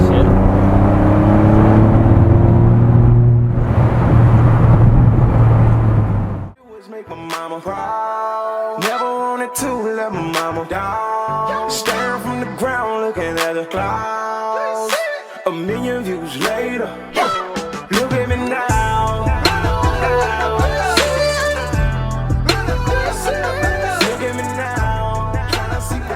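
Stage 2 tuned Volkswagen up! TSI pulls hard in third gear from behind a truck, engine rising loud and close after a brief pause, with gear-driven whine and strong in-cabin roar sustained throughout.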